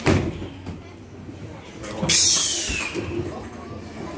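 The heavy, rusty door of a city bus at a bus garage open day is pushed open with a sudden hissing, scraping burst, heard over background chatter and a low garage rumble.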